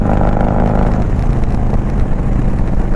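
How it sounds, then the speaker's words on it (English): A Harley-Davidson Road Glide with a D&D full-length exhaust, its engine giving a loud, steady, deep rumble that lasts throughout with no voices. "That's the Harley sound."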